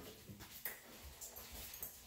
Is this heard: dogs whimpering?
yes